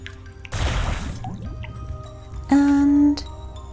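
Water being collected in the Wytchwood game: a splashy burst of dripping, squishing liquid, then a short sustained tonal fill sound, heard alone at moderate level.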